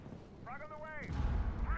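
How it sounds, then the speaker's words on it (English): In the Rainbow Six Siege video game, a frag grenade goes off as a deep, rumbling boom that swells in the last second, right after a brief voice is heard. "Frag on the way!"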